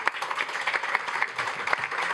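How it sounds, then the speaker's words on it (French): Audience applause for a project's core team at a talk, a brief spell of steady, dense clapping from a moderately sized crowd, mid-distance and fairly soft. "je vous invite à faire un maximum de bruit, d'applaudissements"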